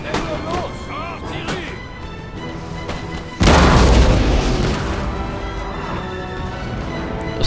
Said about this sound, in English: I'm just being bombarded by howitzers.